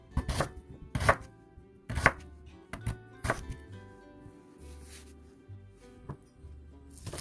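A knife chops Korean radish into thin, even slices on a cutting board, with sharp repeated thuds spaced irregularly near the start, then softer scraping and lighter cuts close by, no talking.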